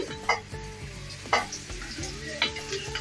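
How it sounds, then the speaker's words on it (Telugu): Beans and carrots frying in oil sizzle close up as a spoon stirs them, with three distinct scraping strokes over a constant hiss. "ఇవి కొద్దిగా ఆయిల్లో ఫ్రై చేయాలి టూ మినిట్స్"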